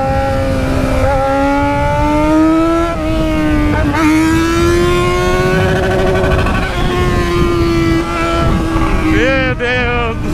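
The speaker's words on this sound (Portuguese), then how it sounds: "tá berrando muito essa moto, mano." A Yamaha XJ6 motorcycle engine screams at high revs during a burnout, a loud sustained whine that wavers in pitch and dips briefly before climbing again, heard up close.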